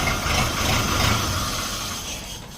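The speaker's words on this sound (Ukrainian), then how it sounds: "Ось така Dino 504. Їде до свого власника." A Dino 504 mini tractor engine runs while driving, a steady, fairly loud low rumble with a constant hum that fades slightly toward the end, with no talk.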